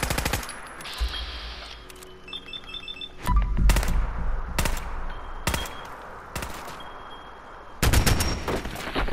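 Bursts of gunfire from a custom assault rifle fitted with a short scope, a shotgun compensator and incendiary rounds in the video game Fallout 4, with several rapid volleys separated by brief pauses, loud and close.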